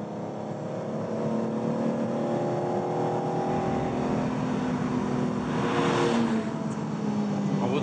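Red Lamborghini 350 GT, the marque's first model, driving on the road, its engine note a steady hum that swells into a louder revving surge toward the end.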